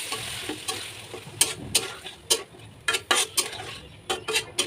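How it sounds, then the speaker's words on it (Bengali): Half-boiled dal with two eggs is stirred in a pan, a utensil repeatedly clacking and scraping against the metal over a soft low sizzle, close and uneven in rhythm. "তো ডালটা আমি ভালো করে নেড়ে চেড়ে দিচ্ছি।"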